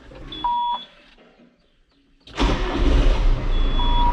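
A farm tractor engine, a John Deere 4440 used for haying, turns over and starts, then runs loud and close with a steady rumble after a short quiet stretch, and two thin electronic beeps sound at the beginning and the end.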